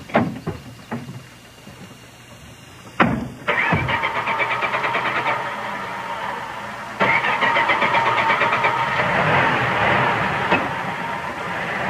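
An early-1930s car engine sputters and cranks in short bursts, then catches and runs rough. It cuts out and restarts before chugging on unevenly, loud and close, with no speech.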